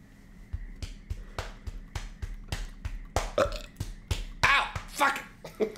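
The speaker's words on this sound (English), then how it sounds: "He was burping." A baby burping in the horror video game Poppy Playtime chapter 3, a rapid series of about a dozen short, sharp burp-like pats in a steady rhythm, close and clear, with voices chattering over the later part.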